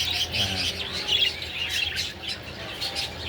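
Texas clearbody parakeets, crested birds kept in a breeding setup, chirp and twitter nearby in a busy, continuous stream of quick high tweets and squawks without any talking.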